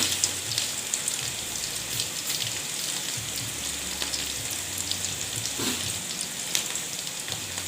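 Garlic fries in hot oil alongside sliced shallots, giving a steady, dense sizzle with scattered small pops and crackles throughout.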